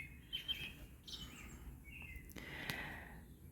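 Several small birds chirp and tweet in quick, scattered calls, fairly faint against a quiet outdoor background.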